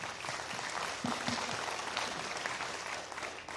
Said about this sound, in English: let's give Josh a round of applause as well.